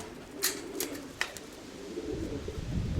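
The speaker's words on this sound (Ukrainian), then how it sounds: "Голуби ось вони, хоч ще й не сіли, але вже ось вони." Pigeons coo softly at a distance outdoors in the cold, a few faint low calls over quiet background hiss, with some brief sharp clicks.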